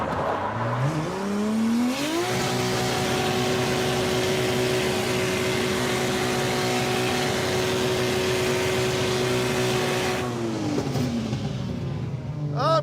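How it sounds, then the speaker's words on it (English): A Dodge Charger engine hums loudly and steadily, climbing in pitch over the first couple of seconds, holding a constant drone, then winding down near the end, with no voices. "I hear engine noises."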